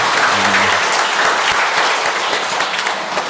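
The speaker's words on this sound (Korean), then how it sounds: "격려의 박수." Congregation members in a church give encouraging applause for the Gloria choir: close, loud, continuous clapping that holds steady and tapers slightly at the end.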